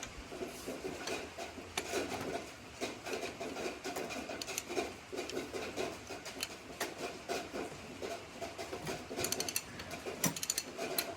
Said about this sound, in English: Got King Tut's ratchet here. You have to hold the lever right there for it to lock and work.